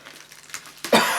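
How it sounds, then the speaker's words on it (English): A person lets out a single, close, sharp cough, with a hint of throat clearing, after a short, quiet lead-in. "I might have a coughing fit in a minute."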